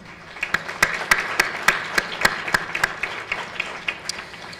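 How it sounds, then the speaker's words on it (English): A small audience at a breast cancer symposium gives a brief round of applause, with sparse, distinct claps rising and fading. "I'd like to give a round of applause to ValleyCare."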